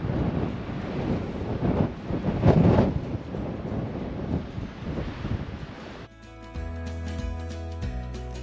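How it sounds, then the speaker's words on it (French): Strong wind blusters across the microphone on the road to Masca, Tenerife, loud and rumbling with a gusty swell midway, then cuts to music for the last couple of seconds. "Il y a énormément de vent,"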